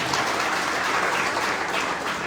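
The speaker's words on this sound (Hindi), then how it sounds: "तालियां बजती रहनी चाहिए।" Dense, sustained clapping from a crowd at a live Indian youth-awareness rally, a steady loud wash of many hands throughout with no talking.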